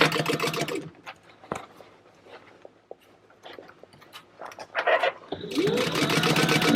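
A sewing machine stitches a fabric wall panel in short bursts: a fast, loud mechanical whirring run at the start, quieter clicks and fabric handling in between, then another sustained stitching run at the end.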